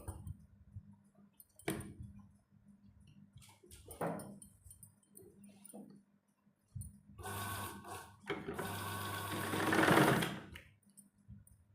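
A sewing machine stitches a kurti: scattered handling clicks and knocks first, then two bursts of fast mechanical running, the second longer and louder, heard close with no talking.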